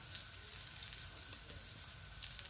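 Harcha semolina galettes cooking in a pan over low heat, a faint, steady sizzle with occasional soft ticks and pops, no voices.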